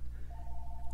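A single short telephone dialing tone sounds during a Persian-language religious call-in broadcast, clear but brief over a low steady hum.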